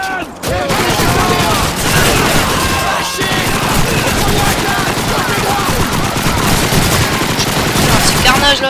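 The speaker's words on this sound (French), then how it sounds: "son pote... a utilisé un peu la mitraillette" Call of Duty 2 video game gunfire, with sustained machine gun bursts and rapid shots in a Russian campaign battle. The dense, loud crackle carries on almost without a break, and some game sounds are mixed in.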